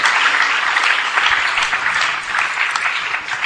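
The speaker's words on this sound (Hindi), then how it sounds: "इस बच्ची के लिए तालियां बजाइए" Steady, dense applause from an audience at a certificate distribution for Bait Bazi 2025 in Aurangabad, India, clapping for a young girl; loud and continuous throughout with no talk over it.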